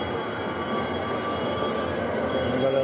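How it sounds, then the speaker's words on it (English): A small ride-on train in a shopping mall rolls steadily nearby, its continuous rumble and faint wheel squeal filling the space with no talking. "We've got little train rides."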